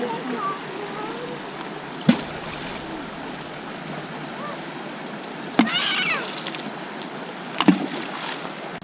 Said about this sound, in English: My kids want to throw 250 rocks into the river right now